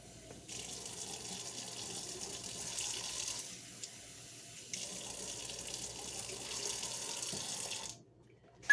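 Water streams into a jar for a flour starter, a steady pouring rush that breaks off briefly midway, resumes, then cuts out near the end.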